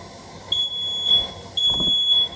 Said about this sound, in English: There's a smoke alarm again.